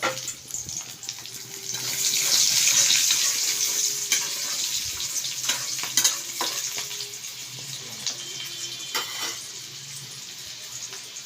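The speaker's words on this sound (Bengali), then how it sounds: "আমি অনেকটা রসুন কুচি দিয়ে দিচ্ছি।" Lots of chopped garlic fries in hot oil for a Manchurian dish, a bright crackling sizzle that swells and then settles, with scattered clicks and taps from the pan.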